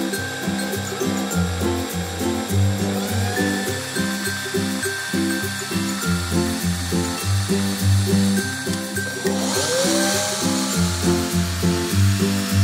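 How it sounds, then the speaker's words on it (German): Cordless drill on a low speed setting twists the ends of two wires clamped in its chuck for Christmas star decorations, a loud close whirring motor with rhythmic pulsing hum and a brief rising whine partway through. "spanne ich die Enden der beiden Drähte in das Futter, in das normalerweise der Bohrer reinkommt, und stelle den Akkuschrauber auf eine niedrige Stufe ein"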